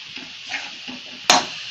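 A spoon stirs coconut filling with cardamom powder in a pan with the heat off, making soft scraping strokes capped by one sharper clack near the end.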